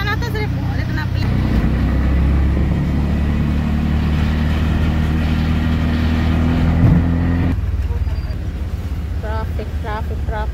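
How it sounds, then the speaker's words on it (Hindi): Road traffic jam at a market street, with a steady loud rumble of idling car engines and vehicle noise throughout, someone talking over it. "ट्रैफिक ट्रैफिक ट्रैफिक जम हो गया"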